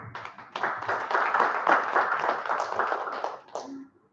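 At a signing ceremony, an audience breaks into applause, a steady, fairly quiet patter of many hands that swells, holds, then tapers away near the end, with a brief voice at the close.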